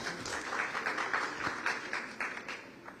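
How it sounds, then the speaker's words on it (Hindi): Audience applause at a Bihar election campaign event, a steady patter of many hands clapping at moderate level, somewhat distant and continuous with no speech over it. "जोरदार तालियां लेसी सिंह जी के लिए हो जाएं"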